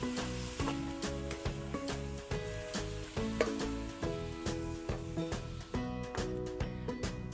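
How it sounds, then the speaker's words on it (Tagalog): Small pieces of pork sauté in a pan for Filipino menudo, a continuous close sizzle beneath steady background music. "Igisa lang natin to ng mga 5 minutes."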